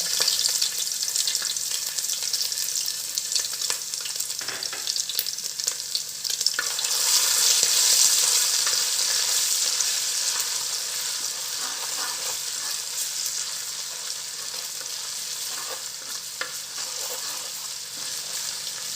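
Crushed ginger and garlic hit hot oil for a catfish curry, a continuous crackling sizzle that swells louder midway, with occasional utensil taps and stirring scrapes and no voices.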